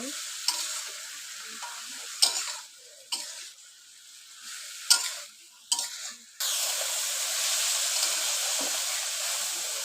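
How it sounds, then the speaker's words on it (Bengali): Small fish and eggplant fry lightly in a pan and are stirred slowly: a few separate scraping stirs over a soft sizzle, then a steady, louder sizzle that fills the second half. "বেগুন মাছ একটু ভাজা হালকাভাবে নিতে হয় নিতে আসে আস্তে আস্তে লাড়া দিতে হয়"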